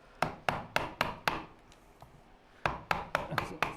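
A hand chisel is struck into wood for bench hooks, giving a run of sharp, close knocks, a brief lull, then another quick series of hits.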